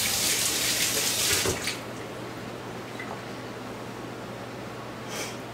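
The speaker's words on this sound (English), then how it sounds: "Rinse the beans off." Tap water running into a sink as beans are rinsed, a loud steady rush for the first couple of seconds, then a quieter continuous flow with faint splashes.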